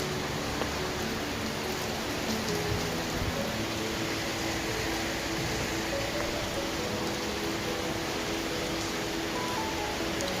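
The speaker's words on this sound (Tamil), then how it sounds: "செம்ம மழை ஃப்ரெண்ட்ஸ் எங்கள் ஊரில் இன்றைக்கி." Heavy rain falls steadily on a village in Tamil Nadu, a broad, even hiss of downpour that fills the whole stretch at constant loudness, with no voices.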